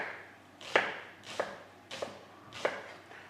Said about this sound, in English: slice your red onion as thinly as you can